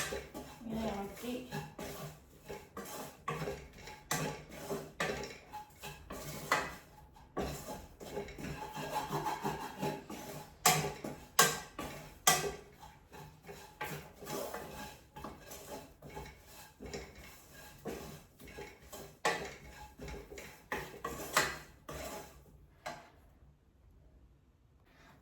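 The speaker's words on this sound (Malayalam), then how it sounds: "ഇങ്ങനെ ഇളക്കി" A spoon stirs spices in a pot, giving soft scraping and rubbing strokes with occasional light clinks in an irregular rhythm, faint and close, tapering off near the end.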